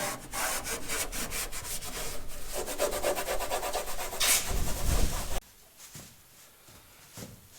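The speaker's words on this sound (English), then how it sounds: "I am scuffing up the panels and getting it ready for paint." Bus interior panels are scuffed by hand before painting, a continuous rapid back-and-forth rubbing rasp, loud and close, then it cuts to a quieter faint scrape for the last couple of seconds.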